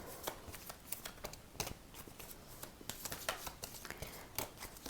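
Tarot cards being shuffled by hand, a quick run of soft papery riffles and flicks repeating at a brisk, uneven rhythm, close and fairly quiet with no voices.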